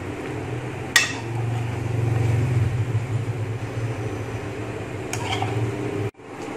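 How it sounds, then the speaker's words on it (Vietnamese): Stir-fried ingredients for a vegetarian bún soup are tipped from a pan into a soup pot on the stove, with a low steady rumble, a couple of metallic clinks from utensils against cookware, then an abrupt stop. "Sau đó chúng ta sẽ bỏ tất cả những nguyên liệu mình đã xào nấu nãy giờ vào trong nồi luôn nha."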